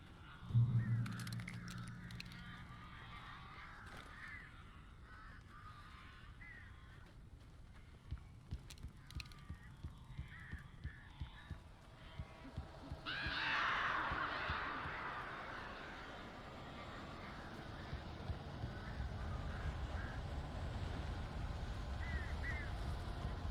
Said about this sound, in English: Save Barry from the birds